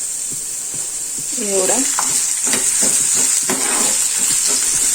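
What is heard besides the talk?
oil added to pan, sizzling while frying onion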